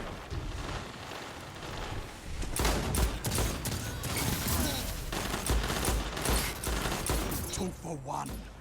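Hand cannon gunfire in the Destiny video game, with dense bursts of shots and impacts layered over constant game noise and talk.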